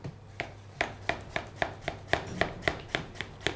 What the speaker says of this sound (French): coupez-la en deux, et enfin, on les mince en fines lamelles